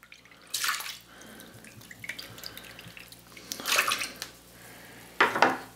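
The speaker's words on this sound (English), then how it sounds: "now we're going to add in 1 cup of apple cider vinegar" Apple cider vinegar is poured into a bowl of cubed, peeled potatoes, making three short liquid splashing bursts spread across the moment, with quiet gaps between them.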